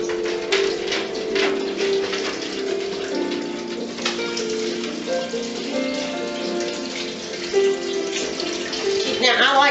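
Whey drains from cottage cheese curd poured through a strainer, a steady trickling and splashing of liquid, close and continuous, with a faint tonal hum underneath.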